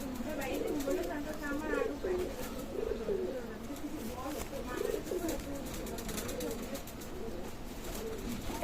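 A running pair of Pakistani teddy pigeons coo in repeated soft, throaty phrases close by, while people talk alongside.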